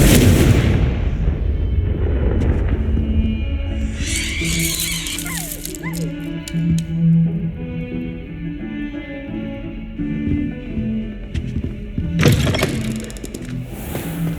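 Confringo, an explosive spell in the video game Hogwarts Legacy, going off as several loud, blasting bursts, one near the start, another in the middle and a sharp one near the end, over a humming background.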